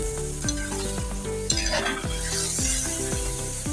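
Chicken pieces sizzle and fry with onions in a pot, steady frying hiss broken by repeated stirring scrapes; background music plays beneath the cooking sounds.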